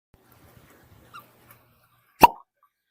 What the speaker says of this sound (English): I love hearing that cork pop.